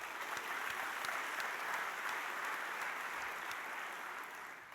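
Audience applause at an NTCA conference for Romy, incoming CEO, a steady, dense wash of many hands clapping that holds for several seconds at moderate level, with no talk over it.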